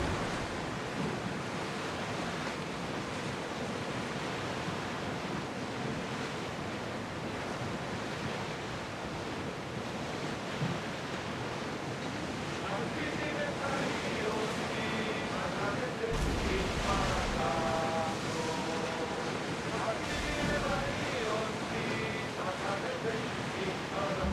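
Ship in Assassin's Creed Odyssey cutting through waves under oar power, a steady broad wash of surf and sea noise filling the scene continuously, with faint game music and shouted crew commands in the background.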